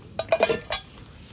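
Metal cooking pots and utensils clink and scrape at a mountain camp, a few quick light knocks close by within about a second, alone without talk.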